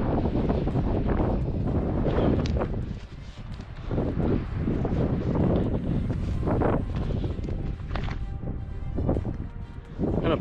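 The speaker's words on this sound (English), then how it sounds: "Hello, wind." Gusty wind buffets the microphone in a desert wash in Utah's San Rafael Swell, a loud, continuous roar that surges and eases in waves with brief lulls.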